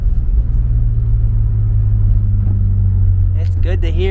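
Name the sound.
big turbo BMW E36 drift car engine running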